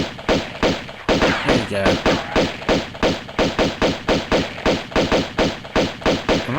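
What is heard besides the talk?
gunfire from Tomb Raider 2 video game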